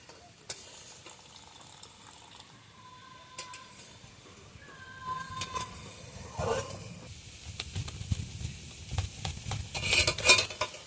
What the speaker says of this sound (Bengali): মৌ ব্যাটারটা ভালোভাবে গুলে নিচ্ছে